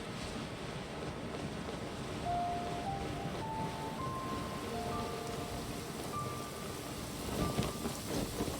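Steady rain in Genshin Impact, with a low rumble of thunder rolling through a continuous hiss of falling water while faint musical tones drift above it.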